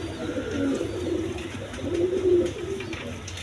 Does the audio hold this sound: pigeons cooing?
yes